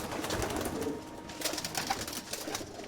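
Pigeons kept in a rooftop loft in New York's East Village coo softly against a busy, noisy outdoor background, with short low calls recurring through the few seconds and no one speaking.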